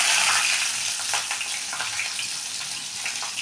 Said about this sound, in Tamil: கடுகு பொரிஞ்சோன்னா வெந்தயம் கொஞ்சோண்டு சேர்த்திக்கலாங்க